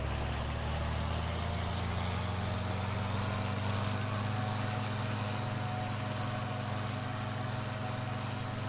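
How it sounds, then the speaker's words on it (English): A John Deere tractor engine idles in Farming Simulator 19, a steady, even, low droning hum that holds unchanged throughout, alone with no talk. "They seem a bit quiet, these tractors."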